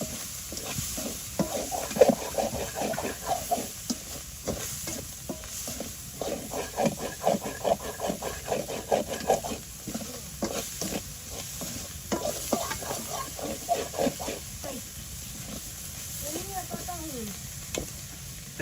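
Fish and potato curry with turmeric sizzles and hisses steadily in a pan in a village kitchen, with repeated stirring scrapes throughout and someone speaking briefly near the end.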